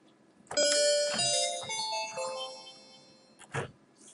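A bright, bell-like Ensoniq ESQ-1 triangle-bell synth tone rings out in a few chiming notes with a shimmering decay, fairly soft, ending with a short soft thump.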